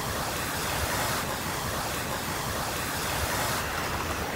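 River in a forest, a continuous broadband rush of flowing water, steady and fairly close, with no voices.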